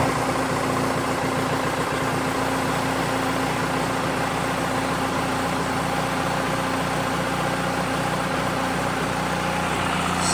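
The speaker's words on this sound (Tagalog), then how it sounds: "tayo ay mag-start na ng motor para marinig nyo rin" BMW R 1300 GS motorcycle engine running at a steady idle, a loud, continuous close-up rumble with no talk over it.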